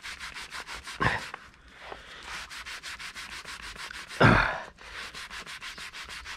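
Machine polisher fitted with a Royal Pads cutting pad working paint with polishing paste, a steady rhythmic rubbing whir pulsing at an even pace, broken by two louder scraping bursts.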